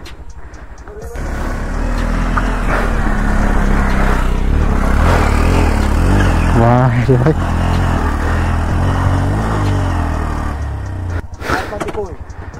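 A Hero Glamour 125cc motorcycle drones steadily and close up on a hill ride from Belonia to Ambasa, with the engine note shifting midway while people talk over it.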